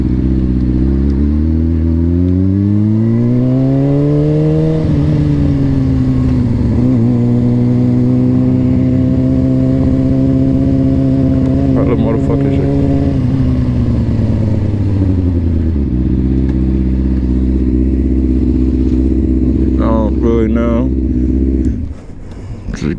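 Harley-Davidson motorcycles at a memorial ride meetup, a loud, close engine droning and rising in pitch like revving, holding steady, then dropping and climbing again, with a voice briefly heard under it.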